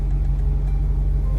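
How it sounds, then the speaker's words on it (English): A Maserati GranTurismo with a loud exhaust note holds a steady, deep, rumbling drone up close, continuous and unbroken with no talking. "it sounds like you have an exhaust, a custom exhaust on the car"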